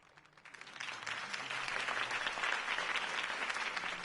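Crowd applause in the Telltale Batman video game, a dense wash of clapping that swells in after a brief quiet start and holds steady and loud to the end.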